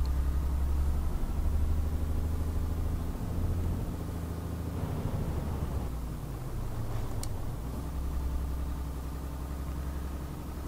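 A truck engine in the video game Euro Truck Simulator 2, pulling a light load, drones steadily and loudly throughout. The low, continuous rumble shifts in pitch now and then, with no talking.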